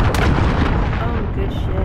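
A cruise missile strike in Call of Duty: Modern Warfare brings loud, rumbling booms and dense explosive blasts close by that roll on without pause, with a voice speaking underneath.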